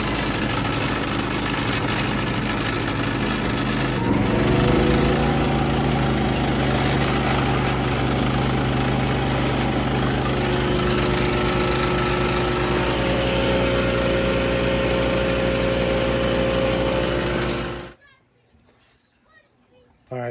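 Harbor Freight Predator 3500 inverter generator running with a steady, loud engine drone and loose wrenches rattling, continuing for most of the stretch before cutting off abruptly into near silence.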